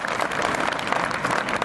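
A debate audience breaks into dense, continuous applause, many hands clapping together at an even, loud level from start to finish with no voices over it.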